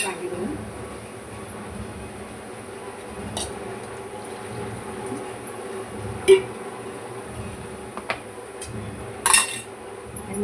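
Metal vessels clink and knock in a home kitchen as water is poured over crabs cooking in masala, with sharp isolated clatters against a quiet background and a voice talking at times.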